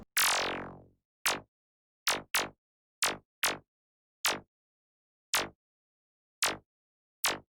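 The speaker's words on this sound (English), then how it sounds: "The last part is the snare drum." A synthesized snare drum from a Pure Data IDM patch, heard alone: one long noisy hit with a falling sweep, then a string of short sharp snappy hits in an uneven electronic rhythm, separated by silence.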